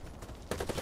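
Bursts of gunfire in the Warface online shooter, a quieter stretch of distant shots giving way to a louder rapid volley of overlapping rounds near the end.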